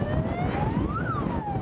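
A fire engine siren wails with a rising and falling pitch sweep during a major wildfire on Korea's east coast, fairly close, over steady road and wind rumble with no talking.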